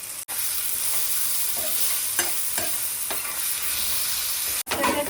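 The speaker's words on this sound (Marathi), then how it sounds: "आधी आपण मस्त वांग फ्राय करून घेऊ तेलामध्ये" Eggplant frying in oil with a pinch of salt, a loud, dense, close sizzle that runs steadily, with occasional stirring scrapes and two brief cut-outs.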